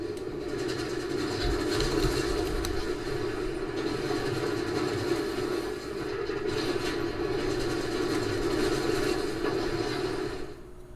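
A train rolling along rails in the video game Dark Cloud 2, a steady low rumbling drone with faint rhythmic clatter, constant and moderately loud without any voices.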